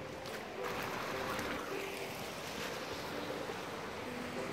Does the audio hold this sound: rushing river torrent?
yes